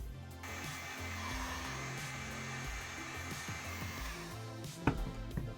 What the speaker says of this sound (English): Now with our heat board in place, got a heat gun.